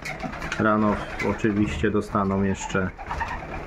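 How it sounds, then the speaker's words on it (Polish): Pigeons coo in deep, throaty, repeated phrases close by while a person speaks over them. "I teraz odkarmiam te gołębie"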